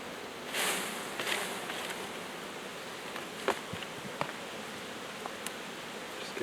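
A dense, steady hum of many honeybees buzzing around a hive box fills the air, with occasional closer passes and light clicks and rustles.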